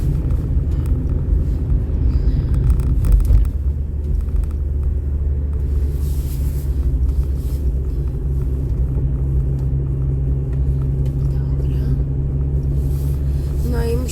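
Car driving on a detour to recharge its battery and warm up the engine, heard from inside as a steady low engine and road rumble throughout, with no talking.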